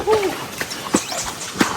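Horse hooves clip-clop on a guided horse ride along a farm path, a few distinct hoof strikes spaced irregularly at close range, with faint voices and ambient noise around them.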